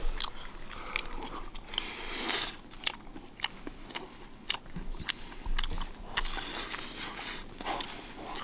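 People eat barbecued chicken cooked in a drum grill, with close, irregular crunching, tearing and chewing sounds, soft clicks and bumps mixed in over a quiet background.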